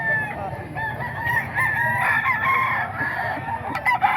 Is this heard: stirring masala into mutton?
no